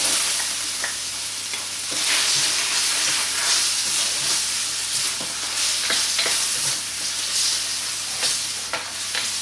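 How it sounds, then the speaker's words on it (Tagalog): Garlic and onion sautéing in melted margarine in a pan, an even sizzle broken by repeated sharp scrapes and taps of a stirring utensil, close and continuous without voices. "Lutuin lang natin maigi yung sibuyas"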